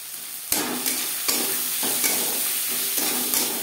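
Onion and tomato with turmeric and salt being stirred in a frying pan, a dense sizzle punctuated by regular spatula strikes against the pan every half second or so.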